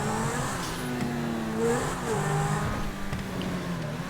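A car drives steadily in GTA 5 with a continuous engine drone that rises slightly mid-way, a faint tire-like whine on top, heard under a low background.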